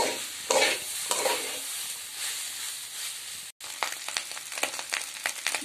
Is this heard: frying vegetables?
yes